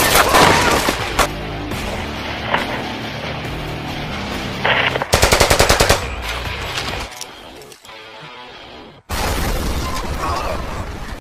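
Bursts of action-movie gunfire crack and rattle in rapid volleys, with a sustained machine-gun-like stretch near the middle, then a brief quiet gap before loud chaotic shooting and impacts resume; dense, close and loud throughout.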